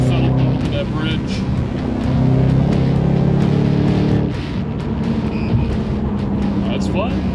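A 2011 Shelby GT500 tuned to 750 hp with a Whipple supercharger accelerates at full throttle. Its loud, steady engine roar and supercharger whine fill the cabin, shifting pitch partway through.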